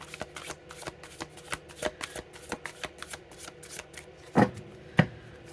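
A tarot deck is shuffled by hand at close range, with quick rhythmic riffles and taps of the cards and two louder slaps near the end, and no one speaking.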